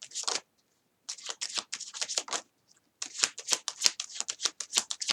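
Tarot cards being shuffled for a Pisces reading, a series of quick crisp riffling bursts with a short pause after the first burst, close and fairly quiet.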